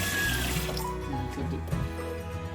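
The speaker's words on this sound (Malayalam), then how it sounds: "കുറച്ച് വെള്ളം ഒഴിച്ച് വെച്ചേക്ക്" Water pours into a pot to soak rice for a pineapple pulao, making a brief, continuous splashing gush, fairly close and steady throughout.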